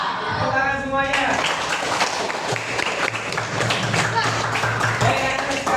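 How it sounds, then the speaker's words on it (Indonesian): Schoolchildren in a classroom clap their hands together at the teacher's request, a dense, steady burst of applause that continues for several seconds with voices mixed in. "Tepuk tangan semuanya."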